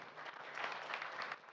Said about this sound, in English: Please clap for Bella, everyone.